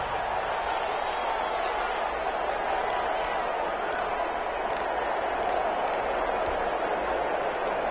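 Steady roar of a stadium crowd in a football video game, a dense continuous wash of distant cheering and murmur, moderately loud and unchanging, with commentary voices mixed in.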